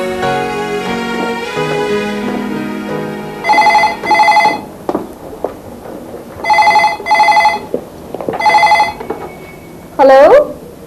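A telephone rings in repeated double bursts during an outgoing call, heard over a dramatic music score in a Hindi telefilm scene, closing with a short rising electronic tone.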